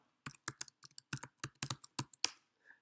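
Keystrokes on a computer keyboard as a layer name is typed in photo-editing software, a quick irregular burst of about a dozen close, crisp clicks with short pauses, no voices.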